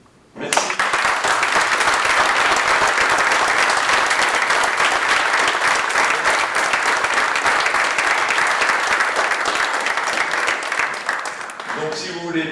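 Sustained, loud audience applause at a community council meeting, dense clapping that starts abruptly, holds steady for about eleven seconds and tapers at the end.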